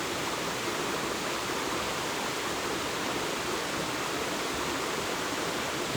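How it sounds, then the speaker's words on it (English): Water flows steadily over rocks in a stream beside oak woodland near Aberfoyle in Scotland's Loch Lomond and Trossachs National Park, a constant broadband rush that holds even and fairly close throughout, with no voices. "sound of the water."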